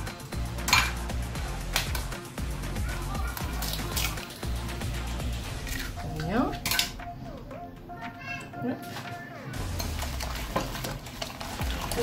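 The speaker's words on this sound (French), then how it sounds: "Je continue à mélanger." Cookie dough being mixed with eggs in a bowl gives steady scraping and clinking stirring sounds throughout, with voices and other kitchen noise in the background.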